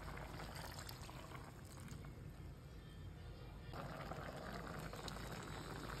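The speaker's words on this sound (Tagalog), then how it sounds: "ilalagay na natin ang ating unang pinigang gata" First-pressed coconut milk pours steadily into a cooking pot for ginataang kamansi with pork ribs, a continuous liquid splash and trickle against a bubbling, simmering background, with no talk.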